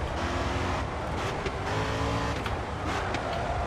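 Continuous engine drone with shifting pitch from a car in the racing game GRID 2, like a car revving along at speed, dense and unbroken without any talking.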